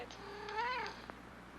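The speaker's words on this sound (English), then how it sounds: "Gods! Cat!" A cat's single drawn-out meow, rising and falling, in an audio drama scene, heard alone over a faint steady hum with a small click afterward.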